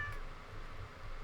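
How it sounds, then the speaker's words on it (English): A cat in the Stardew Valley farming game gives a soft meow over a steady low background hum, quiet and brief. "Is my cat inside?"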